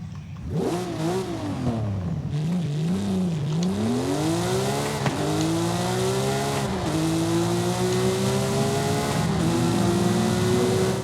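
A revving 1200 hp Porsche 911 Singer DLS engine in Forza Horizon 5 climbs and drops through several gear shifts, then holds a high, sustained whine; loud and continuous.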